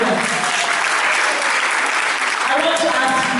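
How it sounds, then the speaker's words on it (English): Audience applause at a school declamation contest, dense and continuous clapping from a crowd filling the whole stretch, loud and close. "Give us a round of applause!"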